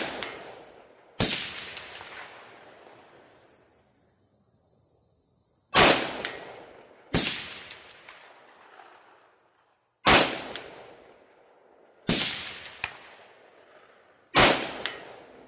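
Pistol shots from a Smith & Wesson M&P 5.7 in 5.7x28 crack outdoors, each hitting a steel target with a ringing clang; six sharp reports spaced irregularly, each trailing into a metallic decay.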